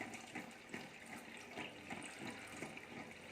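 Water runs steadily into a toilet tank after its fill fittings are adjusted, a faint, continuous hiss and gurgle of filling with soft rhythmic surges.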